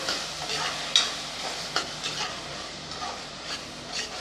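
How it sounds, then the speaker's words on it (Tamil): Tomatoes sautéed and stirred in a pan for a tomato kuzhambu gravy: a steady sizzle under soft scraping strokes and a few sharper taps from the spoon, close and alone without talking. "ஒரு ரெண்டு நிமிஷத்துக்கு நல்லா தக்காளியை வதக்கி விடணும்"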